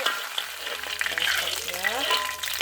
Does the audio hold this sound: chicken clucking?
no